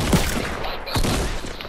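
Gunfire in Fortnite Battle Royale, likely shotgun blasts, with a few sharp booming shots in a chaotic, busy game mix, loud and near.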